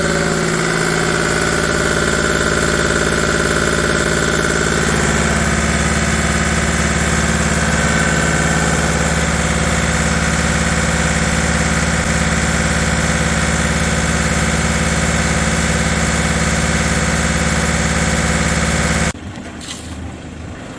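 A Volvo Penta marine engine idling steadily and loudly during a blow-by pressure test, a constant low rumble with a dense drone that drops off abruptly near the end.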